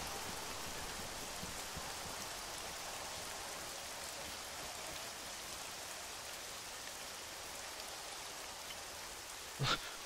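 Steady, even rain falling throughout in the video game DoomsDay Night-3, a constant close wash of raindrops with a brief soft knock near the end.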